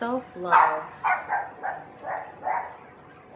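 A dog barks about six times in a steady run, starting loud and fading. A person speaks briefly at the start.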